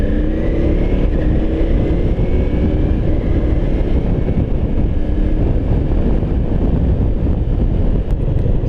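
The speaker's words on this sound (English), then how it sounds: "Oh, a little windy out there." Heavy, constant wind rushing over the microphone of a moving motorcycle riding along a beachfront road, with low engine and road rumble underneath; no voices.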